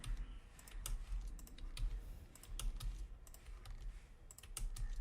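Keyboard shortcuts pressed on a computer during vector animation work in After Effects, a steady run of close, crisp key clicks at an uneven typing rhythm.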